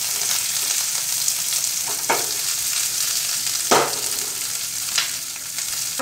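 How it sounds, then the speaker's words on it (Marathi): Large-cut capsicum stir-fried in a pan for idli manchurian, a steady hiss of frying with three distinct scrapes of a spatula tossing the pieces. "यातच मी मोठ्या साईजमध्ये शिमला मिरची कट करून घेतलेली आहे, तीसुद्धा घालते आहे. व्यवस्थित आपल्याला फिरवून घ्यायचं आहे."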